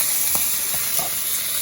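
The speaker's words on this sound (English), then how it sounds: "And now we're just frying it with the little fat on the side." Kobe wagyu beef frying in its own fat on a hot surface, giving a steady close sizzle and hiss with a few soft scrape-like stirring sounds.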